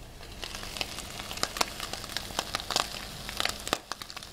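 Eggs and bacon fry in a pan, giving a close, faint bed of sizzle dotted with sharp, irregular pops and crackles throughout.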